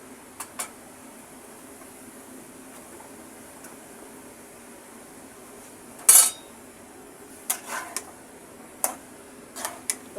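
A spoon stirs chopped ridge gourd into shrimp curry in a pan, giving sparse metallic clinks and scrapes at irregular moments over a low, steady background hiss.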